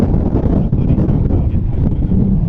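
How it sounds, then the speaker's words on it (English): Strong wind of up to 40 mph buffets the microphone along an old railway line in a loud, continuous low roar with gusty surges, no voices. "It is up to 40 mile an hour wind today."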